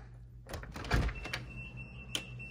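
A door on a Raspberry Pi home automation setup opens with a short mechanical rattle and thump, close by, followed by a faint steady electronic alarm tone and a sharp click near the end; no one speaks.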